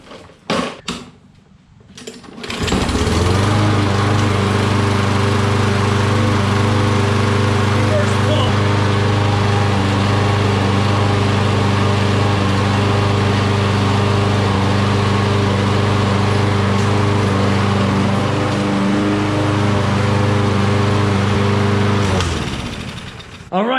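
A Toro lawnmower with a Kohler engine, just tuned up with a cleaned carburetor, catches after a brief clatter and then runs at a loud, steady drone for about twenty seconds before cutting back near the end.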